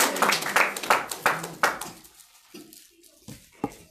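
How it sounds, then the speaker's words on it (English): Hand clapping at a convocation event, several sharp claps in a quick uneven run for about two seconds, then a few isolated softer claps. "come on, clap your hands"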